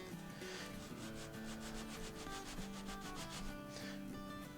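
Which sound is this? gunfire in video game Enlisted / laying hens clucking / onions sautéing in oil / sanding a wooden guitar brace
sanding a wooden guitar brace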